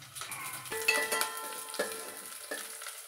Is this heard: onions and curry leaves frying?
yes